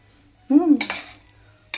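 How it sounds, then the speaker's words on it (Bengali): A spatula scrapes and stirs rice with turmeric, salt and ghee as it fries in a kadai over low heat, giving two short metallic scraping bursts close by with a quiet pause between them. "এইবার আমি এটাকে ভালো করে ভেজে নিচ্ছি কড়াইতে, একদম সিম আঁচ করে"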